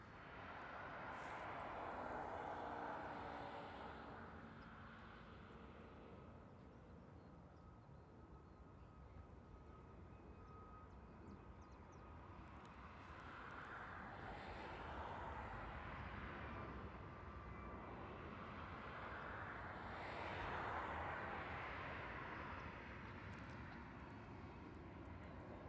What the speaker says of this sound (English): American departure, that one we saw taxiing a minute ago. It's leaving off the Reef runway